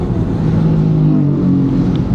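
A large group of touring motorcycles rides together on the road, a steady, loud, dense engine drone with layered rumbling that holds throughout with no gaps.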